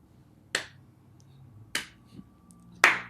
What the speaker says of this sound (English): The appropriate slow clap.